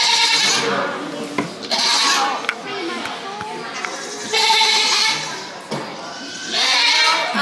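A La Mancha goat on a farm bleats in several loud, close, wavering calls, mixed with children's voices and chatter around it.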